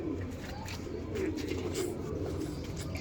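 A Red Rose breed pigeon coos close by in a loft, soft repeated throaty rolls over a steady background, with no talking.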